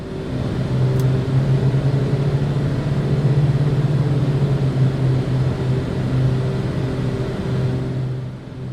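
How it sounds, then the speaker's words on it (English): In the Black Square Dukes flight simulator, two piston engines of a Duke turn at slightly mismatched RPM, producing a continuous loud engine drone that swells and fades in a slow rhythmic beat, heard alone with no talk. "we will hear the characteristic twin-engine beat frequency, which is produced by having slightly different RPMs set on the two engines."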